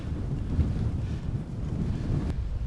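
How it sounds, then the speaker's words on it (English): Strong wind of 20 mph with 25 mph gusts buffets and rumbles against a Naturehike Star River tent and the microphone in a continuous, blustery roar with no voices. "we're at 20 mile an hour winds, 25 mile an hour gusts"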